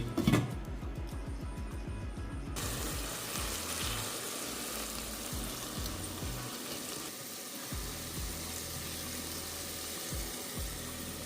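Onion and peas cooking in a pan with water and salt, a steady soft sizzle and bubbling that stays low and constant close by.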